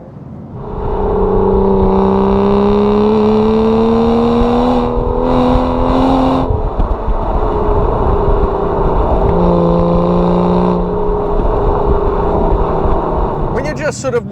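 Aston Martin DB9 engine revving smoothly while driving, a steady loud drone with rising pitch sweeps as it climbs through the revs, briefly dipping mid-run before pulling again, with some talk over it.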